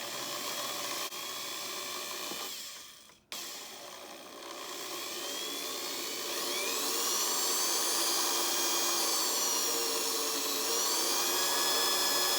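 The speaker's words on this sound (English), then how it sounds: "I'm going to drill a hole closer to here and then one in the middle." A power drill bores holes into a clear Lexan polycarbonate RC car body, a sustained high whine that briefly drops out then resumes and rises steadily, loud and close with no talking.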